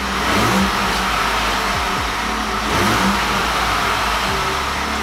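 Close, loud car engine noise with a steady broadband roar that swells and dips as the revs rise and fall repeatedly, heard through a factory car radio test on the subwoofer side.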